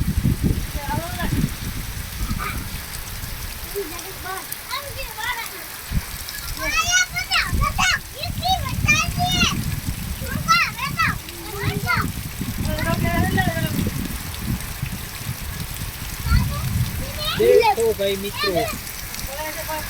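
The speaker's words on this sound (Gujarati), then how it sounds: "કેવી રીતનો વરસાદની ગરગડાટ થઈ રહી છે" Heavy storm rain pours at the Rajasthan–Gujarat border, with strong gusting wind adding a dense, steady roar of splashing water under a person talking throughout.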